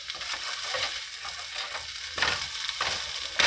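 Vegan beef stir fry sizzles in a pan while being stirred, making a continuous crackling hiss broken by scraping, shuffling strokes, close up and without speech.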